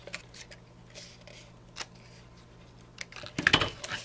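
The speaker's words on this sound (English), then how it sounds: "we're just going to kind of cut this piece right here" Scissors snip through a piece of ribbon on a Christmas tree decoration, a few quiet crisp clicks early on, then a louder burst of cutting and rustling near the end, with no voices.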